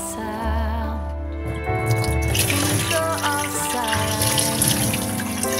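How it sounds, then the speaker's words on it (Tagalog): Pork ribs are washed under a running kitchen tap, with a steady loud rush of water splashing in a sink after a brief hum at the start. "Hugasan natin. Hanggang mawala yung kulay pink niya."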